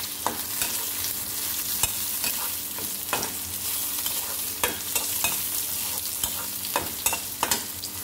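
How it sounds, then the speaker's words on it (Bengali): Small tomato pieces frying with onion in a pan for egg bhuna, a continuous near sizzle with regular spatula scrapes and taps through the stirring, no speech. "ছোট্ট 2-3 টুকরা টমেটো দিয়ে দিব।"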